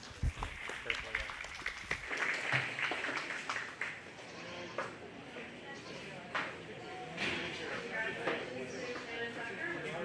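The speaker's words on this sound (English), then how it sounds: "give her a nice round of applause" Audience applause at a county fair goat show, brief scattered clapping heard faintly beneath an announcer's amplified speech, which carries on over it.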